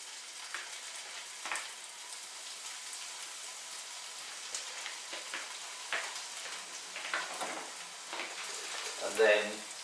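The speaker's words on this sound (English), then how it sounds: "you can hear they start sizzling straight away" Salmon fishcakes sizzling in plain cooking oil in a frying pan, a steady soft crackle with scattered louder pops and spits throughout, fairly close and unbroken by speech.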